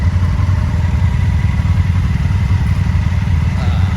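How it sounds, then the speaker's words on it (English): Honda Africa Twin motorcycle engine idles close by with a steady, low rumbling throb that stays even and continuous for the whole stretch, with no talk over it. "I am riding the Africa Twin"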